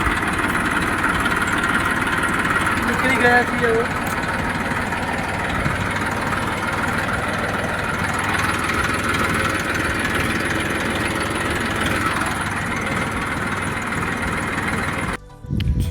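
A vehicle engine drones steadily while driving out to fetch a tractor for a groundnut harvest on a farm, with a constant low rumble and road noise throughout and brief speech under it.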